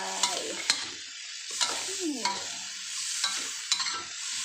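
Eggplant is stir-fried in a pan, with a soft steady sizzle under repeated scraping spatula strokes that come in short bursts, close and fairly loud, with no voices.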